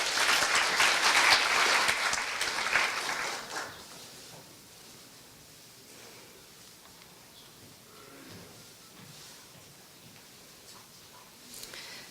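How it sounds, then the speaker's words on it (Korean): A concert audience claps for a piri performer at a Korean traditional music concert. The applause is dense and loud for about three seconds, then quickly fades to scattered claps and quiet room sound, with a brief burst near the end. "박수 주십시오."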